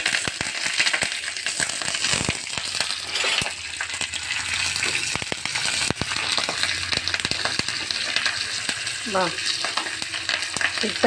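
Cumin, mustard seeds, urad dal and curry leaves crackle and pop in hot oil for a curd rice tempering, a dense, steady sizzle with rapid sharp spatters and occasional utensil clinks.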